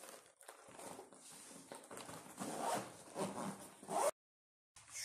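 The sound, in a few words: opening a plastic package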